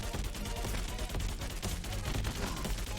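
The enemy Big Daddy fires bullets in the Xbox One game Freakout: Calamity TV Show, a continuous rattling barrage of rapid gunfire that stays dense and unbroken, at moderate loudness.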